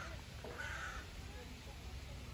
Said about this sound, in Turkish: Kurbağalar, kuşlar, kargalar.